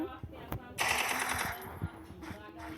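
Video game gunfire from an SMG and a Desert Eagle pistol in a shooter, heard as a dense burst of rapid shots with several sharp single reports, mixed with faint background game noise.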